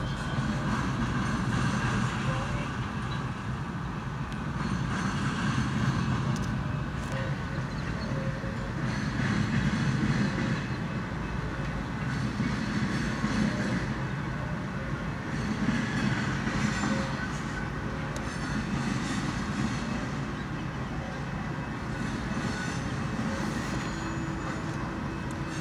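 Union Pacific mixed freight train rolling in steadily, a continuous loud rumble of wheels and railcars with faint clickety-clack, sustained throughout with no talk.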